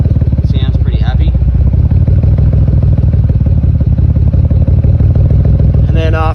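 A car engine idles steadily after a timing adjustment, with an ongoing misfire fault; the low, even rumble runs loud and close throughout, with a brief rise near the end.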